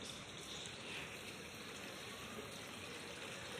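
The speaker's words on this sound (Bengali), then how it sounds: "বেশ ভালোই জল পড়ছে" Water pours steadily from a government project pipe into a tub, a continuous close rushing, splashing wash with no breaks and no voices.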